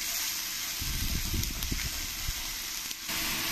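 Onions frying in a pan for a soybean and mushroom masala, a steady close hiss and sizzle with a few louder crackles near the start and no voices.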